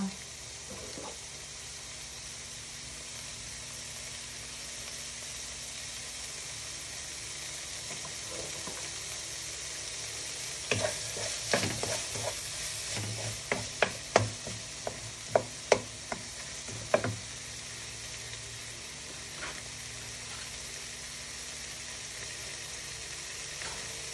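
Shrimp sautéing in a pan for a home-style gisadong sayote, with a steady sizzle and a run of sharp scraping stirs and clacks in the middle, fairly close and without talk.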